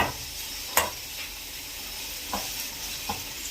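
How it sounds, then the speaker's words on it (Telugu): Onions and chillies fry with curry leaves in a pan, a constant close sizzle broken by several sharp spoon scrapes and knocks as they are stirred. "మిరపకాయలు వేగిన తర్వాత కళ్యామాకు వేసి అలాగే ఉల్లిగడ్డలు వేసుకొని దగ్గరికి వచ్చేదాకా కలుపుకోవాలి"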